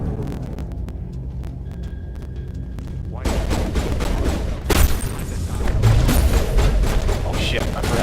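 A turret opens fire in Mass Effect Legendary Edition, sustained rapid gunfire with heavy thumps rising abruptly over a low game hum and building into dense, loud volleys.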